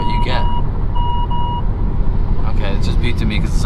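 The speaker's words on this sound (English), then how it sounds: "it just beeped to me because somebody was in my blind spot" A 2018 Kia Stinger 2.0T blind-spot warning sounds as a few short, clear electronic beeps inside the cabin, over steady engine and road rumble.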